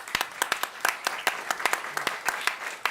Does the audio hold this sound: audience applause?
yes